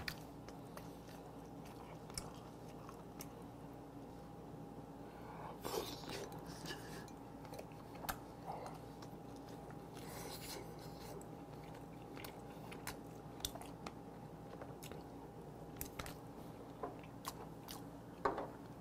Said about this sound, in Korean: 입에 딱 들어와 씹을 때 큰 조각이 두룩두룩 나뉘는 게 아니라 씹을수록 조그만 조각이 싹싹싹싹싹 많이 생겨나는 게